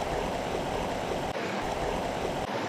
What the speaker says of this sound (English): this is the first little stream I've come across